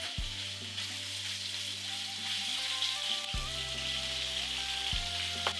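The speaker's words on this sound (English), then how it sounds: "Start searing the beef." Beef searing in olive oil in a very hot, wide saute pan, giving a steady, close sizzle and frying hiss throughout with a few soft clunks as the meat is placed or shifted.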